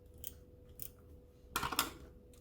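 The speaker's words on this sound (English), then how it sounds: "so let me erase this." Eraser rubbed over a written mistake on paper in a few short, soft scratchy strokes, the final bursts a little louder and closer.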